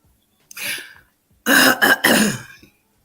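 A person clears their throat twice, a short rasp followed by a longer, louder harsh clearing, close up with no talking.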